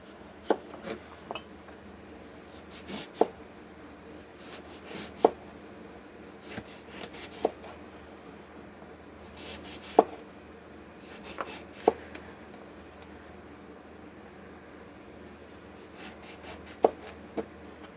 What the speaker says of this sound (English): I'm just going to slice this lemon.